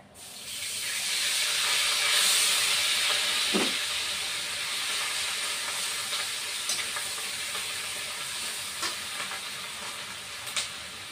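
Ground onion paste dropped into hot oil over cumin seeds, frying in a pan with a loud, close, continuous hissing sizzle that swells right after it goes in, then settles into steady crackling with occasional sharp pops.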